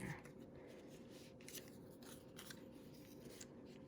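Scissors fussy cutting a paper flower for a greeting card, quiet close snips in a loose irregular rhythm against a soft background hiss.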